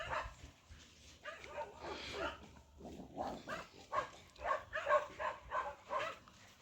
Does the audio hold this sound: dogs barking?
yes